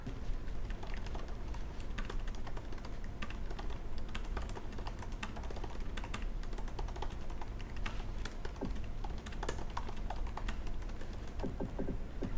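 Typing on a refurbished Apple MacBook keyboard: rapid, steady key clicks and taps run close and continuous throughout, with no voices.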